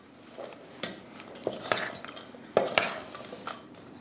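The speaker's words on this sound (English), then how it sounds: "So we just gently stir that together." A spoon clinks and scrapes in a bowl as crumbled feta is gently stirred into a lamb filling, with several sharp taps and soft scraping strokes at an irregular pace, close and fairly quiet.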